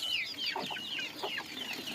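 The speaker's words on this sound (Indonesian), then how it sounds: "ayam-ayamnya udah pada lapar" Several chickens cluck and squawk in short, overlapping bursts nearby, moderately loud, with no voices.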